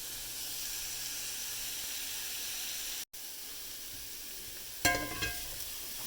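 Shrimp sear in a very hot pan with a constant soft sizzle and hiss, briefly cut off, then a louder burst of spitting crackle near the end.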